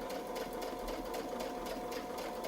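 A sewing machine quilting a feather design guided by a Westalee ruler runs in a steady, continuous whir with quick rhythmic needle pulses, close and moderately quiet, with no talking.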